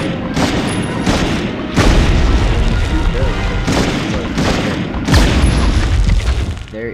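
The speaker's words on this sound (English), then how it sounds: "You see these gas cans? We can shoot those, and they will blow." Gas cans blowing up after being shot in the PS1 game Medal of Honor: a run of heavy, loud booms and blasts with gunfire-like bursts, dense and continuous, with some talk underneath.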